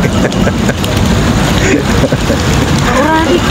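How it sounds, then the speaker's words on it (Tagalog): Rain pours steadily on an outdoor promenade at Zawaya Walk in Sharjah, a dense close hiss of falling drops with people chatting excitedly underneath. "Oh my God, it's raining."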